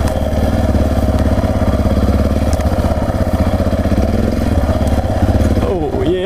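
Steady, loud single-cylinder engine drone of a 200 kg Yamaha XT 660R motorcycle riding a rocky single track, close and continuous with a slight rise near the end, a voice speaking over it.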